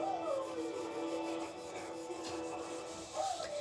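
Pencil scratching continuously against paper while coloring in a diamond drawing, a close, steady rubbing texture with no pauses.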